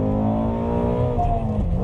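A Ford Mustang GT350 engine pulls hard under acceleration, a close, loud and steady harmonic drone that holds for about two seconds with no voices over it.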